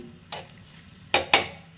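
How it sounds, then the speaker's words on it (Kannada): Oggarane tempering with Byadgi chillies hits a pan for sambar, giving three short sizzling bursts of spitting oil, one softer and two sharper close together, over a quiet background. "ಈಗ ಇದನ್ನೊಂಚೂರು ಒಗ್ಗರಣೆ ಹಾಕಿ ಫೈನಲಿ ಒಗ್ಗರಣೆ ಹಾಕಿದೆ"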